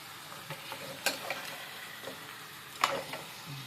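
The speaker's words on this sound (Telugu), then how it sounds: "చూసారు కండి, ఇట్లా బాగా కలుపుకోవాలి." Chicken being stirred and mixed in a pan, with a couple of sharp scraping strokes standing out over a soft, steady cooking hiss and scattered lighter clinks; no one speaks.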